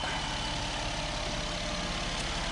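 A 2007 Jeep Wrangler X with a stock exhaust idles nearby, a steady, quiet low engine rumble holding an even tone throughout, with no voices.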